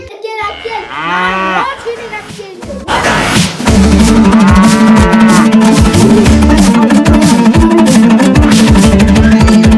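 A cow moos loudly nearby, long drawn-out lowing calls, followed by a noisy stretch of clamor with children's voices.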